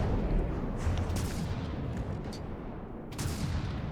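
Constant missile fire in From the Depths rumbles as a dense, continuous barrage of booming launches and blasts, loud and unbroken, with sharper cracks standing out now and then.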